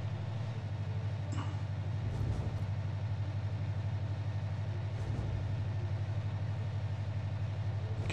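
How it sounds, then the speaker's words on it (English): A ship's diesel engine from the naval game Victory at Sea: Pacific runs as a steady, low droning hum with a constant rhythm throughout, heard at a moderate distance with no voices. "Can hear that diesel engine running."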